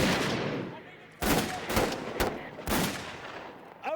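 Gunfire in a dramatized street scene set in 1972 Derry, several loud sharp cracks at irregular intervals, each with a decaying echo, over a background of crowd noise.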